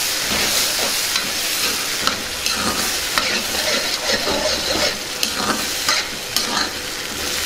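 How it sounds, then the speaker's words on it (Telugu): Green peas fry in a hot pan as they are stirred, a steady close sizzle broken by repeated scraping strokes of a spoon, with no talking. "ఒకసారి కలుపుకుందాం."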